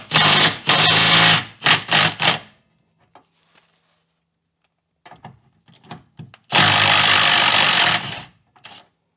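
An 18mm deep socket on a power tool spins off the lower shock nut of a Renault Scenic 3's rear suspension in loud, close whirring bursts, a longer run at the start, short pulses, a quiet gap with small clicks, then another long burst.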